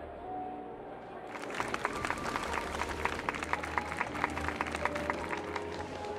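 Warm applause from a crowd at a ceremony aboard an airship in a Honkai: Star Rail cutscene, a steady dense patter of clapping that swells in after a quiet opening and continues throughout.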